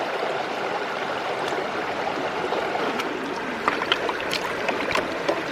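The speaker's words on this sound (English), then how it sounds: "That's some real professional mat washing, Nonna." Water sloshes and splashes steadily as sluice mats are rinsed in a side-channel stream while gold prospecting, with a few sharper splashes near the end and no talking.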